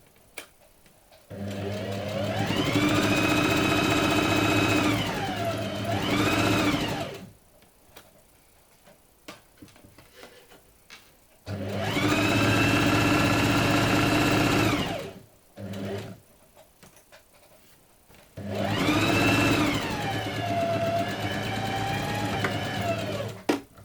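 A sewing machine stitches the first seam of a fabric bread bag in three bursts of steady close-range whirring and needle ticking, with quiet pauses and handling sounds between runs.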